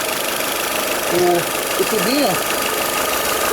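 A faulty 408 car engine idles steadily and close by, a continuous rough hum running the whole time while someone talks briefly over it.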